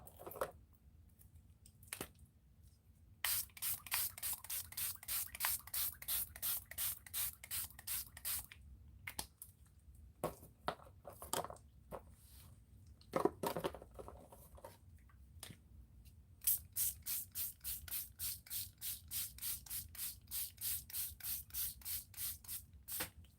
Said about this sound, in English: Okay, it doesn't spray so well.